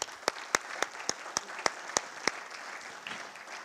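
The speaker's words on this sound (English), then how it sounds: "We should give them a round of applause for." Scattered clapping comes from a conference audience applauding VMUG user group leaders. About a dozen sharp, distinct claps ring out in a fairly regular rhythm over a faint room background and thin out near the end.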